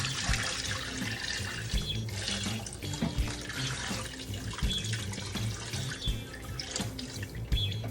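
Tap water running steadily into a gallon container for fish stock, a continuous splashing flow with small drips, close by and alone.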